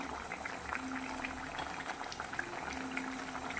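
Rice bubbles in a pot as it boils and foams, a soft, continuous close simmer of popping and gurgling, quiet and with no voices.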